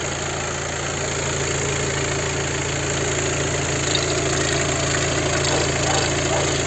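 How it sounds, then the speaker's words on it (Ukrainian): A 2016 VW Touran Highline with a 2.0 TDI 150 hp diesel engine and DSG gearbox idles steadily with a close, even diesel clatter and a low hum that hold throughout. "Заводить машину з півоберта."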